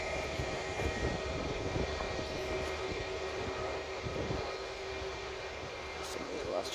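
QantasLink Boeing 717 jet airliner departing Sydney, a steady broad engine roar heard from a distance, even and sustained throughout.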